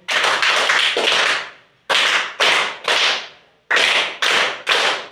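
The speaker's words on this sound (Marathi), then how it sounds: "त्याबद्दल 3 टाळ्या वाजवून आपण सर्वांचं अभिनंदन करूया" A group of children and adults claps in sharp, unison patterns of three, first a quick burst, then two triple rounds with short pauses, loud and close.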